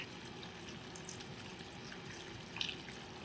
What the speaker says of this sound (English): take my watering can and just fill the bottom here